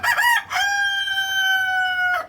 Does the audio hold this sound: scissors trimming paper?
no